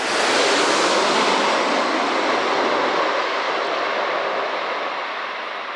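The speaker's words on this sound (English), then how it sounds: "This Boeing 747 landed very hard in Amsterdam." A Boeing 747 landing hard in Amsterdam, heard as a loud, steady broadband roar of jet engines and airflow that holds strong and then eases slightly toward the end, with no voices.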